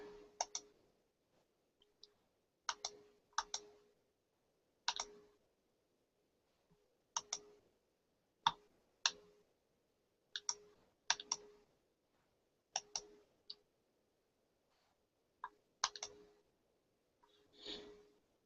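Computer mouse clicks while working in cutting design software, sparse quiet double clicks spaced irregularly over a near-silent background with no talking.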